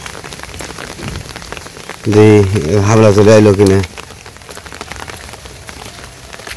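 Light drizzling rain patters steadily in a rural Bangladeshi village during the rainy season, and a nearby voice briefly speaks over it before the soft rain continues alone.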